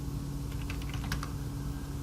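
Someone typing on a computer keyboard, a short run of about a dozen light key clicks, close but quiet over a steady background hum.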